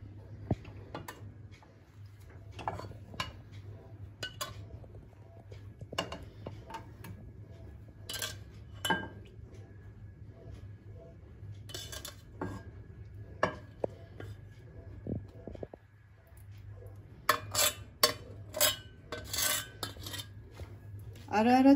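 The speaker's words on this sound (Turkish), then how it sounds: "Ara ara çatal batırıyorum." A fork pokes repeatedly into a syrup-soaked Cyprus dessert (Kıbrıs tatlısı) in its tray, giving faint, scattered metallic taps and clicks over a low steady hum, with a denser cluster of taps near the end.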